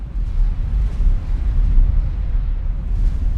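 Heavy ship cannons in X4 with a Star Wars submod fire in a continuous rolling barrage of booming blasts, loud and dense, with no voices.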